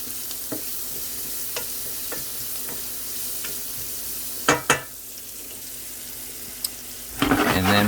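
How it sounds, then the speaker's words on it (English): Onions frying in a pan give a steady close sizzle throughout, with a few sharp clinks and scrapes of a utensil midway and a louder stir near the end. "But I got my onions in there. They're cooking up nicely."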